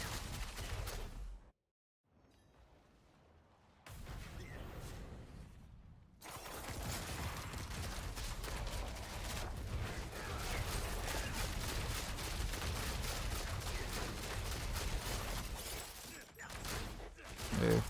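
Rapid gunfire and mechanical weapon bursts from the Precision Barrage ability in a video game, loud and dense, running almost continuously after two short near-silent gaps near the start, with voice activity mixed in.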